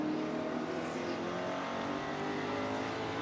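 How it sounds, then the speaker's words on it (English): Ford Mustang race cars with 427 engines at Sebring International Raceway make a continuous, fairly distant engine roar with a rising and falling drone, and no voices over it. "These Mustangs sound good too."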